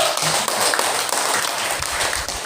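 A classroom of students applauding a student group, a steady wash of many hands clapping together, close and fairly loud, holding evenly for a couple of seconds.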